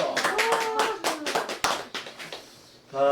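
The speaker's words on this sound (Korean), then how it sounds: "박수!" Clapping breaks out at the opening of an outdoor Korean poetry and Chinese-character program by the west coast, a burst of brisk hand claps, loud and close, fading out near the end.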